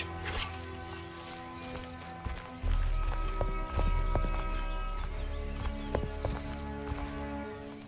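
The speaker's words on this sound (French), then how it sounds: "J'entends des bruits de pas." Footsteps in the video game Of Ash & Steel, a run of sharp clip-clop taps with a hoof-like rhythm over low droning game music, steady and fairly close.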